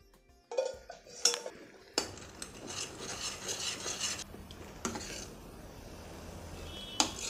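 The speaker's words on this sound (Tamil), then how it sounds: "இந்த ஸ்டேஜில் உருக்கிற இந்த வெல்லத்தை இதில் விட்டுடலாம்." Metal utensils clink and scrape against a pot as melted jaggery is added to wheat-flour payasam, followed by steady stirring and rubbing sounds, with a few sharp clanks along the way.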